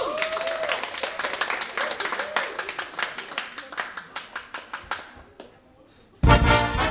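Audience clapping at a brass band performance, dense rhythmic applause under a voice that thins into scattered claps before a loud burst of music or noise at the end.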